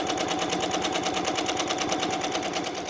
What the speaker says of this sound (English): While that's embroidering